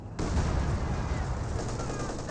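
Machine gun and 120mm mortar fire in the Company of Heroes 2 strategy game, a dense, rumbling barrage of rattling shots and booms that runs continuously at a steady, moderate loudness.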